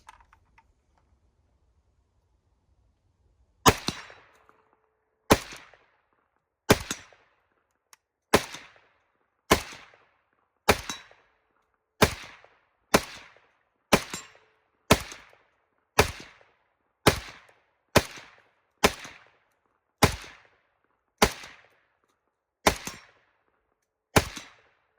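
A PSA AK-47 GF3 rifle fires single shots at an outdoor range with steel targets, about sixteen sharp reports spaced roughly one to two seconds apart, each followed by a short echo.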